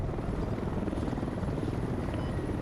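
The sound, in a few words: helicopter in the video game Squad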